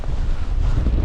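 Strong gusting wind of a blizzard on an outdoor duck hunt buffets the microphone, a loud, continuous low roar with no voices over it.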